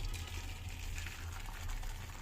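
Cooked mung dal is poured from a pot into a bowl, giving a steady soft liquid gush and slosh at low volume, continuous and close with no talking.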